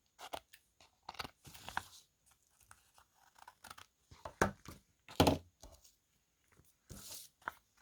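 Scissors trim paper for an envelope collage, a quiet series of separate snips and crisp cuts with short pauses between them, and no talking.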